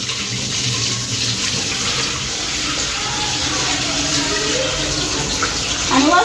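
Water swishing and pouring as wheat grains are washed in a container, a continuous close rush of running water with a louder surge near the end.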